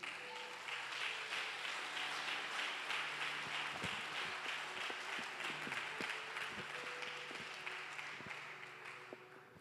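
A church congregation applauds during a missions service, a steady wash of many hands clapping at moderate distance that holds for the whole stretch and fades slightly near the end.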